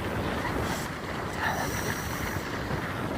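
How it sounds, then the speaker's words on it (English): Strong wind roars steadily across the microphone outdoors at a cycling race, a dense continuous buffeting rush with no voices. "Look at that wind blow."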